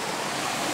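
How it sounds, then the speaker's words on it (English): Small stream flowing through a Japanese-style garden, a steady broadband rush of running water heard close and continuous, with no voices. "Let's take a look at this little stream here. The stream is flowing down."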